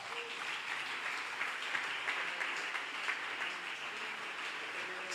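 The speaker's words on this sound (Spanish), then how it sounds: "Denle un aplauso al Señor." Sustained applause from a church congregation, steady and fairly even throughout, moderately loud and diffuse, with no clear voices rising above the clapping.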